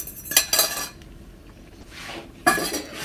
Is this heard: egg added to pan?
yes